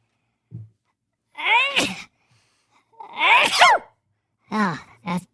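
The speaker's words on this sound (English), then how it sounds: "I have to sneeze." A person sneezes during a casual podcast conversation, with a faint intake, then a loud sneeze and one or two smaller follow-up bursts spread over a few seconds, close to the microphone.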